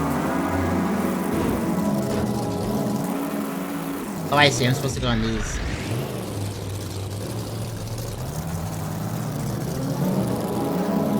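A car engine in the video game Pudgeworld hums steadily as the vehicle climbs a wall, with a brief surge in the middle, playing under someone talking.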